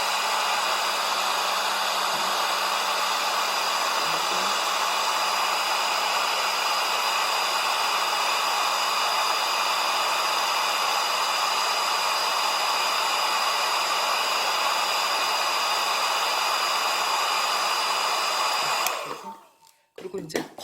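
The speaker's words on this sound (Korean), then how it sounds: "항상 작품 위에 수직으로 위치시켜 놓고 드라이기로 작업을 하셔야 돼요." A hair dryer runs steadily and loudly while drying a silver clay ring, held above the piece as a steady whir with a faint tonal hum, then switches off abruptly near the end.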